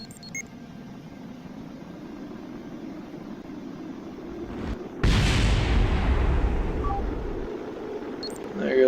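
A fuel tank explodes on a burning rocket in Kerbal Space Program, a sudden deep boom followed by a rumbling roar that fades over several seconds, with someone talking beneath the game sounds.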